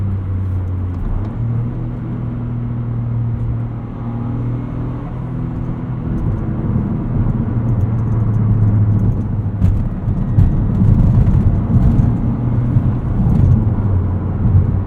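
A 2023 Toyota GR Corolla Morizo Edition in track mode drives on a chilly day, its engine rumbling loud and steady with a low drone that swells as the car accelerates, plus interior road noise throughout.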